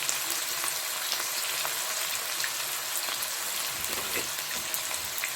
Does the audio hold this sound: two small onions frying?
yes